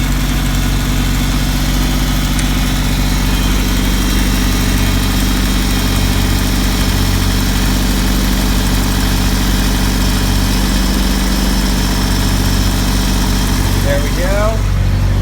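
Nissan 240SX engine idling steadily after starting up, a constant close, loud low rumble that runs throughout, with a short voice near the end.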